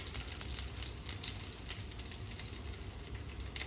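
Garlic frying gently in oil over low heat, a soft continuous hiss and fine crackle, fairly faint and even, with no talking.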